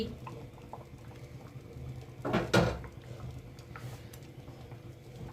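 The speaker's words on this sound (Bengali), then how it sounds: "কড়াইয়ে ঢাকনা খুলছি।" A lid is lifted off a kadai of cooking vegetarian oats khichdi, making one brief clattering scrape of metal midway through a quiet kitchen.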